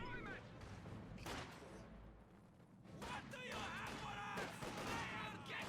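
Gunfire from a battle in the real-time strategy game Company of Heroes 2: bursts of rifle and machine-gun fire with dull booms, layered over a continuous din of combat while a commentator talks over it.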